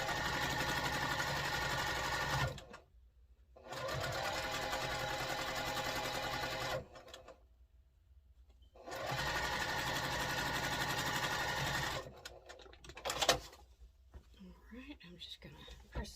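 A sewing machine stitches quilt block seams for a disappearing four-patch star block, running in three steady bursts of a few seconds each with short quiet pauses between them.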